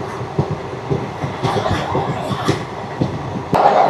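Inside a coach of the Simhadri Express passenger train, a steady rumble carries rhythmic wheel clicks over the rail joints. Near the end a brief sharp clank is followed by a louder hiss.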